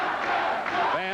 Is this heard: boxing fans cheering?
yes